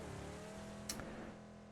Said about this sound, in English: Where the hell is that car coming from? Oh, there he goes.